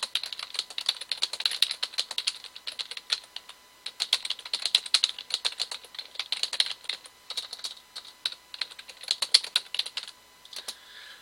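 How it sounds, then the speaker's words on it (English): Rapid, steady clatter of fingers typing on a computer keyboard, close and fairly loud, in bursts with brief pauses between them and no talking. "Let me just type it out real quick."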